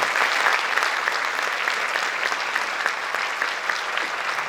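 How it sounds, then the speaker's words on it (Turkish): Audience applauding a choir's first conductor at a centenary concert, steady dense clapping sustained throughout without a break, no voices over it. "Sizlerden ilk şefimizi bir alkışlamanızı rica ediyorum."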